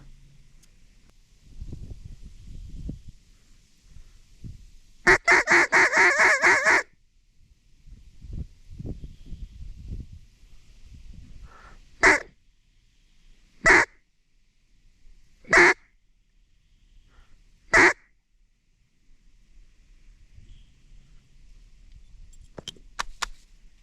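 Wild ducks and geese over a small freshwater slough give loud bursts of rapid quacking and honking between quiet gaps, with several short sharp calls spaced a couple of seconds apart near the end.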